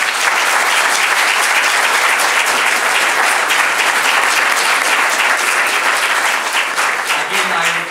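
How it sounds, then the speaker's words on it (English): An audience at a town hall applauding, a loud, sustained wash of clapping from many hands that holds steady and eases slightly near the end, with a voice speaking over it. "I would humbly request you to hold your applause until I read all of them"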